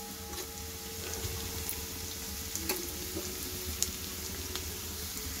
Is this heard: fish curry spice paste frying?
yes